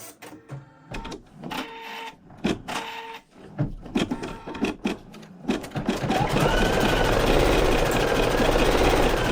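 An embroidery machine stitches running-stitch sprigs with a rapid mechanical chatter, starting in short bursts and then settling into a steady, loud, continuous hum of needle strokes.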